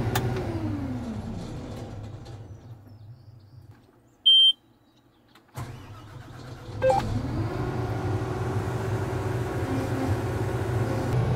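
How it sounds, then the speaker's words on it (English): John Deere combine engine restarting: a steady low engine drone cuts out, a short electronic beep sounds, then the engine catches and rumbles back up to a loud, continuous run. "Gotta do a John Deere restart"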